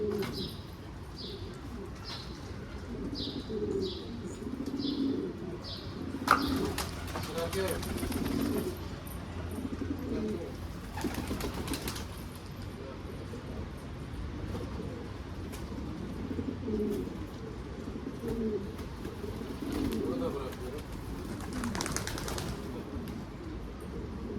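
Young pigeons coo softly in a low, repeated rhythm, with occasional bursts of wing flapping and some brief chirps, fairly quiet and close, over a faint background hum.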